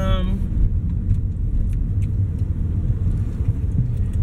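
Steady low road rumble inside a moving car, a continuous engine and tyre drone filling the cabin throughout, with a brief tonal chime at the start.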